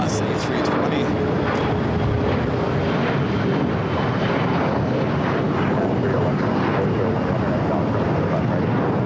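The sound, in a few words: Viva Aerobus airliner at Los Angeles airport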